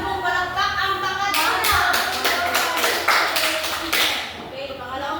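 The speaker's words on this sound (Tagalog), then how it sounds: "bigyan ng 10 palakpak ang pangkat" A classroom of pupils claps in unison for a group of classmates, with about ten sharp, evenly spaced claps in a steady rhythm, close and loud, and children's voices underneath.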